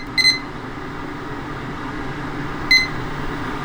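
An air fryer beeps twice, short electronic bleeps spaced a couple of seconds apart, over a steady fan-like hum from the running appliance.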